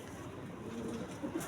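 High flyer pigeons in Karachi give a soft, low cooing murmur close by, faint and steady over light background noise.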